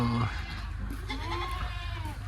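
A goat bleats close by, a short wavering cry over steady outdoor background noise in a rural village, with a voice briefly audible.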